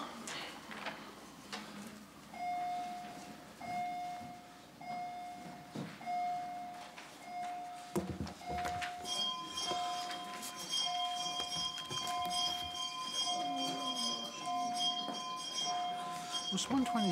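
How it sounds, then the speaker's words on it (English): A legislative division bell rings continuously in a chamber as a steady electric tone, joined halfway by a brighter ringing, with shuffling, thuds and murmuring voices throughout. "Sergeant at Arms, you may ring the bell."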